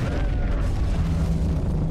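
A black hole weapon fires in the video game Forts, a loud, continuous, deep booming rumble that fills the whole moment without a break.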